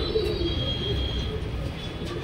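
Low, soft cooing of Pakistani Kalsira pigeons murmurs over a steady rumbling background hum, close by and continuous.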